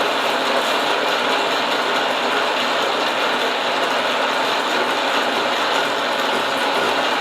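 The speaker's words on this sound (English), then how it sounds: "climb milling, and we're gonna just face off that part" A milling machine climb mills a wood lathe tracing-finger part, facing off its back face. The machine drones as a loud, steady broadband whir throughout, with no talk.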